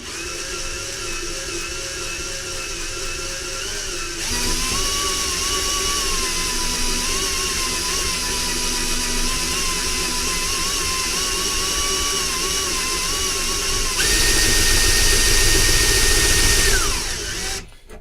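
A power drill with a step bit whines steadily while boring, its pitch shifting under pressure, then revs louder and higher near the end before winding down.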